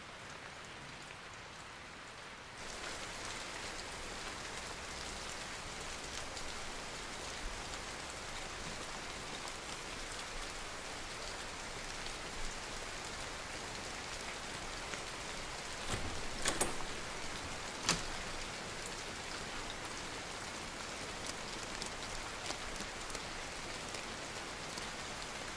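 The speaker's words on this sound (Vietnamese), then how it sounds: "Trời đang mưa, đừng đứng ở đây nữa." Steady rain pours down at night in a drama scene, a dense even hiss with a few louder drips and splashes near the middle, heard alone without voices.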